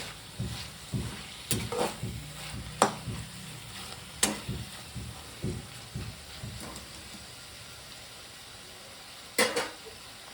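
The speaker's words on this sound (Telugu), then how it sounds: "ఇది వంకాయ లేతగా ఉండబట్టి తొందరగా వేగుతుంది" Tender eggplant fries in a pan over a faint sizzle, broken by irregular scraping stirs and clinks of the spoon that fade toward a quieter stretch before one last stir.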